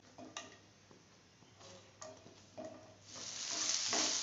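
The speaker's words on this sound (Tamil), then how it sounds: "எண்ணெய் கொஞ்சம் சூடானதும் இந்த கோவக்காவை சேர்த்துக்கலாம்." Ivy gourd frying in hot oil, a soft steady sizzle with occasional ticks and stirring clinks that swells louder toward the end.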